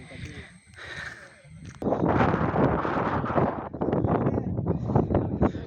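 Strong wind buffets the microphone on a hilltop at a hill station in light rain, a steady broad roar that swells louder midway and stays up, with no voices.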